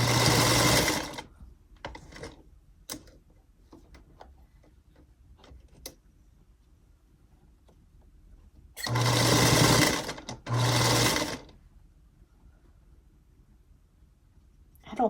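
A sewing machine stitches patchwork seams on a Scottie dog project. It runs in three loud, rapid bursts, one at the start and two near the end, with quiet gaps between them that hold faint ticks and handling noises.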